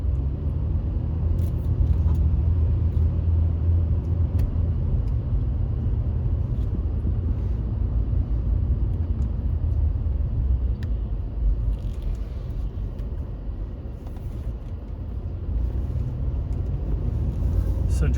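Inside a moving car, a constant low engine and road rumble fills the cabin at steady loudness, with a voice speaking at times over it.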